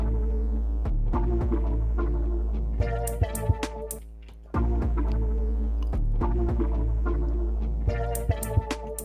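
A musical sample pitched down 12 semitones, slowed and deepened with a droning low throb, scattered sharp clicks and percussive hits, moderately quiet with no voices.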